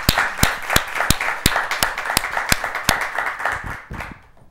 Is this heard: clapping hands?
yes